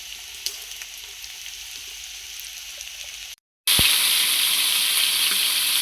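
Cooked rice tipped into a pan of fried egg, a steady frying hiss that cuts out briefly and then returns louder and brighter as the rice goes in.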